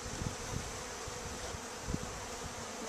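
Honey bees buzz in a steady, close drone while a colony is being hived, their hum even and continuous with a few soft knocks and bumps underneath.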